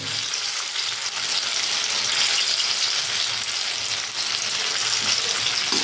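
Banana pitha frying in hot oil, a steady, dense sizzle that holds close and even throughout with no voices.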